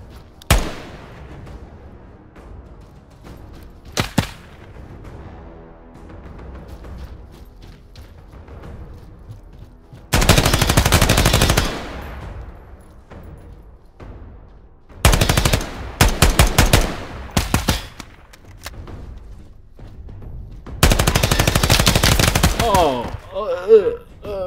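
Bursts of automatic gunfire in a tactical shooter game, several loud rapid volleys separated by quieter stretches with a few single shots, while a player talks between the bursts.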